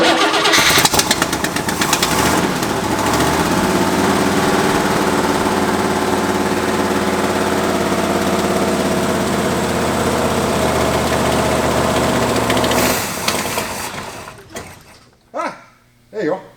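A 1967 Plymouth Hemi GTX engine cranks and catches after revival, then runs at a loud, steady idle without knocking for several seconds before cutting off, followed by a few brief thumps.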